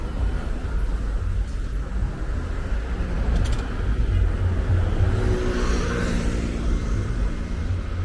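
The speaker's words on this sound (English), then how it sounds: "Here go the traffic. You always gonna find this traffic in Fordham." Steady street traffic on Fordham Road in the Bronx: a continuous low rumble of passing cars and engines, with a slightly louder vehicle sweeping by midway, heard from the sidewalk without talk.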